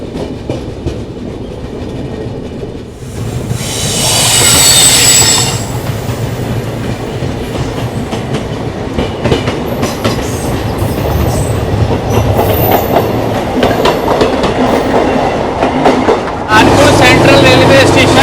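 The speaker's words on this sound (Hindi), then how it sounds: "आगरा कैंट बनारस वंदे भारत इसे लगाया जा रहा है कानपुर सेंट्रल रेलवे स्टेशन के प्लेटफॉर्म नंबर 4 पे" The Vande Bharat train pulls into platform 4 at Kanpur Central railway station with a loud, close rolling rumble and clatter of wheels, a burst of high squeal early on, and voices audible in the station around it.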